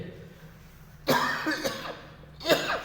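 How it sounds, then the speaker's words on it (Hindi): Two sharp coughs, about a second apart, close to the mic with a quiet room hum between them. "खांसी आ गई।"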